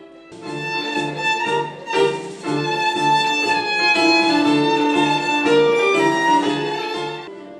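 Violin plays a sustained, bright melody with rich harmonics, bowed phrases flowing steadily and clearly, close and moderately loud with no talking.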